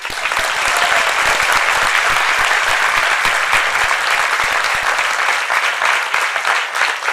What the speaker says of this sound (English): I think we should clap for the temple.